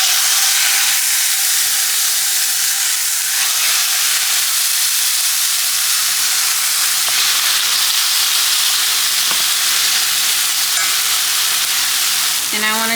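Steaks searing in a hot pan, giving a loud, continuous hiss and crackle that stays steady for the whole stretch, with occasional sharper pops and no talking.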